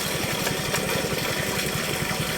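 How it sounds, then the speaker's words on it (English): A solar-powered submersible pump motor runs at about 2500 RPM under MPPT control, producing a steady, loud mechanical hum with a fast pulsing beat and no speech. "MPPT is active, so it's throttling the motor up and down."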